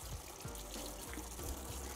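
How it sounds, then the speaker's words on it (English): Cool tap water runs steadily from a kitchen sink faucet while celery stalks are pulled apart and rinsed, a soft continuous trickle and splash with faint handling noises. "pull the celery apart and simply rinse off your celery stalks"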